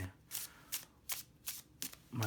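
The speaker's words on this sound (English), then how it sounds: "This really shuffles nicely, I have to say." Tarot cards being riffle-shuffled in quick bursts, about five short crisp rattles separated by brief pauses, close by with no talking.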